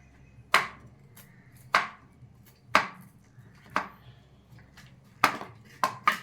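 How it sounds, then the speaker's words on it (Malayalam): A knife slices mushrooms into strips on a cutting board, six distinct close chopping knocks at an unhurried, slightly irregular pace, each with a short sharp ring. "കൂൺ ഇങ്ങനെ എടുത്തതിന് ശേഷം ഓരോ ലൈൻസ് ആയിട്ട് കട്ട് ചെയ്യാം"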